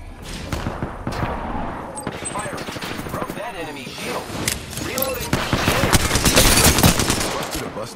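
Rapid automatic gunfire from an Apex Legends battle royale match, dense bursts running nearly the full length and swelling louder toward the end, with a voice speaking over the shooting.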